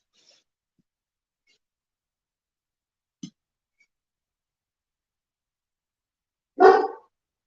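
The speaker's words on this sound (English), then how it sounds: "What you barking at?" A dog barks once sharply, loud and close, in an otherwise quiet room, preceded by a faint short woof a few seconds earlier.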